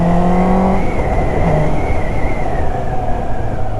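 A 2019 Suzuki GSX-S 750 A2 motorcycle engine running close by, loud and steady with a smooth droning tone that rises slightly in pitch, heard alone.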